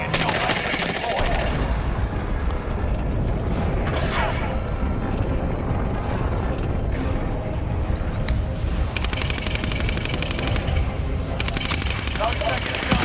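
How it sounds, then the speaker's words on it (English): Heavy automatic gunfire and booms from Call of Duty: Modern Warfare fill a battle scene, with rattling bursts and mechanical clatter running continuously under a voice. "Heavy fire."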